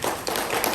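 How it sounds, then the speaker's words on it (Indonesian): Scattered, thin clapping from an audience at a seminar event, a sparse patter of hands for under a second with no cheering, sounding weak and half-hearted. "Kok tepuk tangannya lemes ya?"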